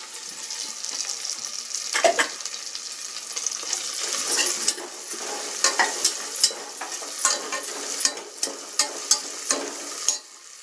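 Onions sizzle and crackle in a hot pan for vegetable biryani while a utensil scrapes and stirs, with a string of sharp clinks near the end.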